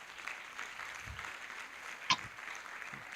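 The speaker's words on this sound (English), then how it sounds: "let's applaud all the speakers of the session" An audience at a biomedical and biotechnology conference applauds the session speakers, a soft, fairly distant patter of clapping with one sharper knock partway through.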